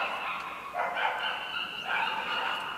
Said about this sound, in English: there's all the barking going on here. An awful lot of dogs in this park.